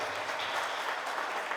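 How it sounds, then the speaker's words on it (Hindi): Crowd clapping at a Hindu religious gathering, a dense, even rush of many hands heard from a distance, continuous and fairly faint for a brief moment. "एक बार तालियां बजाओ"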